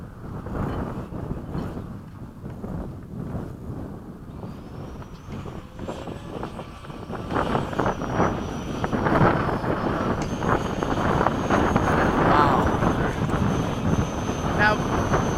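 F-16 fighter jet flying a demonstration display, a loud, sustained broadband engine roar with wind buffeting that swells and stays strong, rising tones sweeping through as the jet passes.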